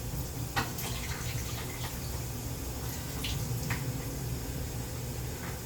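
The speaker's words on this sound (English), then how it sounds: "So we're going to pour it out because we don't need it." Water pours out of a cooking pot into a sink in a home kitchen, a steady, faint splashing stream with a few brief clinks.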